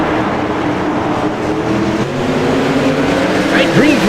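Race cars roar together on an oval at the start of a 60-lap night race, a dense steady engine drone with a rising pass near the end, heard under an announcer's talk.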